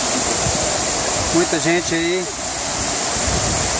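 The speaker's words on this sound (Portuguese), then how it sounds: "Dá para observar aqui essa cachoeira, que é um ponto turístico" Steady broadband rush of the waterfall at Cachoeira do Serrado, a tourist spot with a natural pool in Porteirinha, Minas Gerais, filling the whole clip while someone speaks briefly over it.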